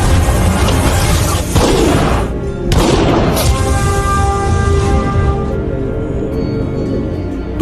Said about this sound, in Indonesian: Tuan Tripati membalaskan dendamnya dengan menembak Bajwa.